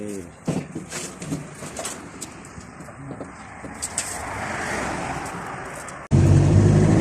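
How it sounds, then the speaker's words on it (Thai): Car on the road near a national park, with birds cooing and chirping over a moderate traffic hum, then a sudden loud, low rumble fills the final second. "ตอนนี้ผมกำลังขับรถ"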